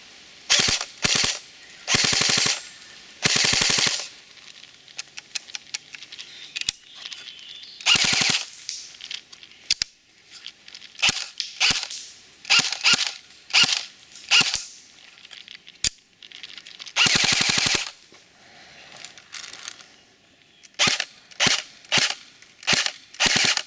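A customized Cyma AK74U airsoft rifle fires repeatedly, loud and close, with short full-auto bursts and single sharp cracks separated by brief pauses, no talking.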